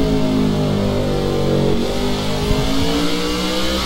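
A race car engine in a NASCAR video game revs up in a steady, loud, close roar that holds through the whole stretch, with a dip in pitch partway through and no talking.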